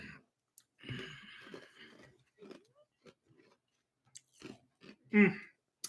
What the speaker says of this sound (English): I had to chew some ice, man.